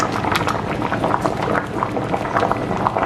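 Vegetable odiyal kool soup bubbling at a boil in a pot, a dense continuous burble of popping bubbles heard up close, with no voices.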